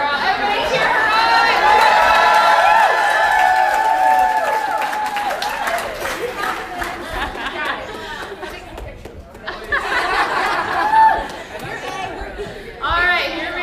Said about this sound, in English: Everybody cheer her on.